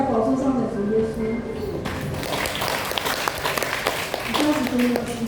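Church congregation applauding during a special communion service, starting with a voice over music, then a burst of many hands clapping with sharp individual claps, fading as a voice returns.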